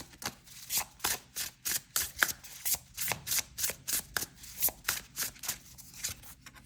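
Tarot cards shuffled by hand during a pick-a-card reading: about fifteen crisp, papery riffling bursts in a steady, even rhythm, close and fairly quiet, with no talking.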